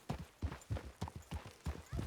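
Horse hooves clip-clop in a steady, evenly spaced series of loud, close strikes, about eight beats in two seconds, with no talking.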